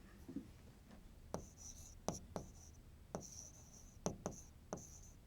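Hand writing on paper, a series of short scratchy pen strokes and taps spaced irregularly, close and fairly quiet, with no talking.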